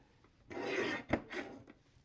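A paper trimmer blade slides through paper in one long, close rasping stroke, then a sharp snap and a shorter scraping pass, with no talking.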